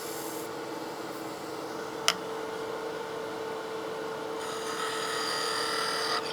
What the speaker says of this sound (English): Smaller tool in this case will be a skew, and that will be to apply a V-groove